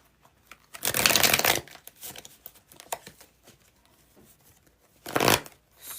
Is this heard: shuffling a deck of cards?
yes